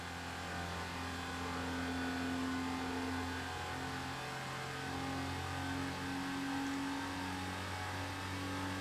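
A classic Porsche 911 engine revs steadily in the Need for Speed Porsche Unleashed racing game, a loud, sustained drone that climbs in pitch through the gears on a long straight.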